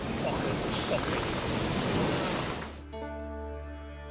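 Steady rain with thunder in The Witcher 3: Wild Hunt, a dense broadband hiss of downpour for nearly three seconds before it drops away and low sustained musical tones take over.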